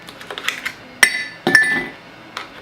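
Ice cubes drop into a glass beer mug with a few bright clinks, two distinct ringing hits spaced about half a second apart and quieter taps around them, close and with no talking.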